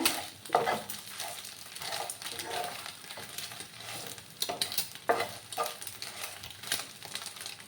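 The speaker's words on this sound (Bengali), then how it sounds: "একটু জোড়া জোড়া করে নিচ্ছি আমি ডিমটাকে" Egg being scrambled and fried in a pan, soft sizzling with repeated scraping and stirring strokes of a utensil against the pan, close and fairly quiet, no talking.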